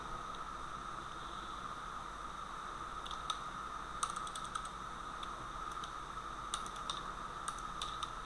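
Typing on a computer keyboard during data entry: short scattered bursts of quiet key clicks over a steady background hiss, faint and close, with no voices.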